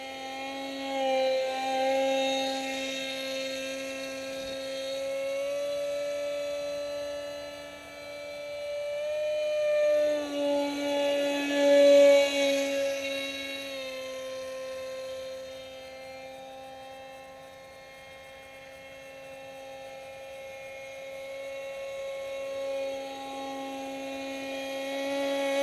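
Electric-powered RC Alpha Jet model plane (Boxermad84) flying, giving a steady, loud whine with strong sustained tones that rise and fall as it maneuvers and pivots, continuous for the whole stretch with no talk.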